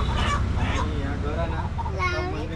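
Roosters at a crowded village rooster fair in Sindhudurg crow and cluck loudly and close by, several overlapping calls over a constant noisy crowd background.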